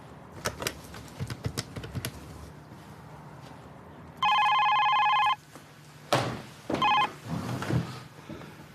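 Office telephone rings with a single steady electronic trill lasting about a second, loud and close, in a quiet room with scattered clicks and rustles before it and a shorter second burst afterward.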